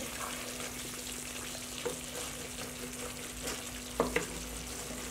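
Mutton karahi with ginger and green chili fries on a low flame, giving a soft continuous sizzle with occasional light scrapes and clinks of stirring.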